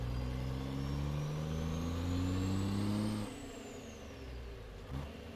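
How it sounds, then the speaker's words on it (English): A truck engine in American Truck Simulator, modded, pulls out with a deep rising drone as it climbs through a gear, then drops off at a shift into a lower, rougher idle-like rumble, loud and close with no talk. "We'll listen to the truck as we pull out here."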